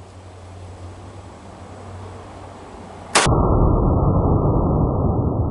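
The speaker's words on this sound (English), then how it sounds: "First up, full metal jacket out of a semi-auto." One sharp, loud gunshot from a semi-automatic gun firing a full metal jacket round cracks out after a few seconds of low background hiss, with a long, heavy blast ringing after it.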